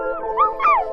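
A person imitates a werewolf howl with a voice that comes out high and thin like a puppy, two rising and falling howls in about a second, close and fairly loud.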